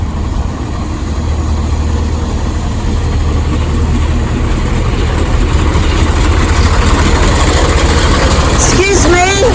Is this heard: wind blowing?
no